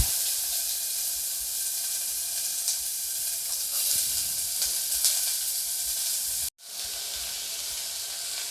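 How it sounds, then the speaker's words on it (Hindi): Chopped onion sizzles and crackles in hot oil with cumin seeds, a steady frying hiss that cuts out briefly near the end, then resumes. "जीरा जब क्रैकल हो जाए तब मैं इसमें अंदर डाल दूंगी कटा हुआ प्याज।"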